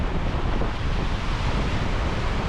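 Large sea waves surge around a wooden outrigger boat with a constant loud roar of water, mixed with heavy wind buffeting the microphone, and no talk.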